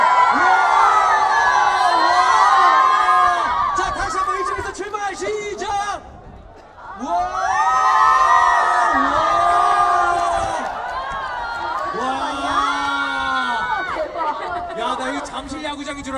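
A big concert crowd of fans roars and cheers through a stadium-style wave at an outdoor guerrilla K-pop show, loud sustained screaming and whooping that swells, dips briefly, then surges again.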